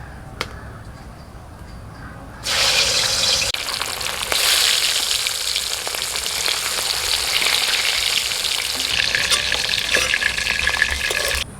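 Hilsa fish pieces fry in oil, a quiet start giving way after a couple of seconds to a loud, dense, steady sizzle that holds close and continuous, with faint clinks of a utensil.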